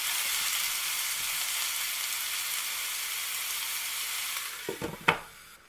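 Onions fry in a pan with salt added, giving a steady, loud broadband sizzle throughout, followed near the end by a few sharp clatters, likely a lid being put on.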